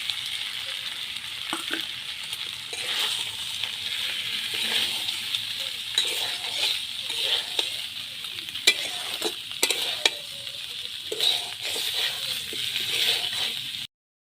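Potato and pointed gourd curry with lentil-paste bhujia sautéing in a pan, stirred repeatedly: constant bright sizzle with frequent clinks and scrapes of a spatula against metal, close up, no talking.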